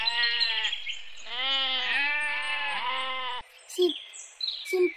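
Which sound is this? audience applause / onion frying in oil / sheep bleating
sheep bleating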